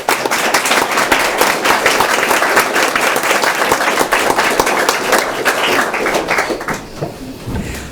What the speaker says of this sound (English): So she deserves a round of applause.